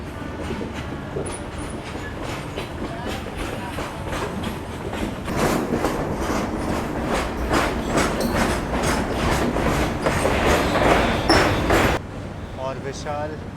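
A fully air-conditioned Indian Railways GatiShakti economy train rolls over a rail-cum-road bridge across the Ganga, rhythmic clickety-clack of wheels on rail joints loud and steady, heard from inside with a voice talking over it.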